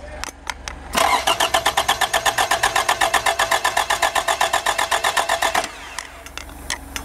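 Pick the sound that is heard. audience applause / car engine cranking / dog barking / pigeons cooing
car engine cranking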